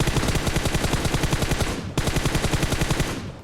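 Rapid automatic gunfire from PUBG Mobile rattles in two long, loud bursts of evenly spaced shots, with a brief gap between them and no voices.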